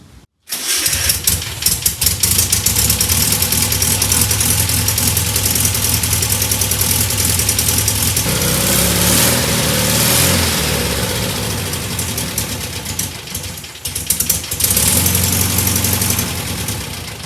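A Volkswagen Beetle engine, first started after more than 25 years, idles roughly and unevenly on a poorly tuned carburetor, loud and close, running steadily throughout with a brief dip near the end and no talking.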